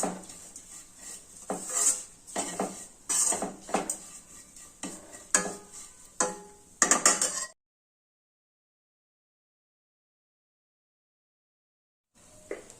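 A spoon repeatedly clinks and scrapes against a bowl while noodle batter made with fenugreek leaves is mixed with sesame powder. The strokes are close and rhythmic for several seconds, then stop into silence, with a brief clatter returning at the end.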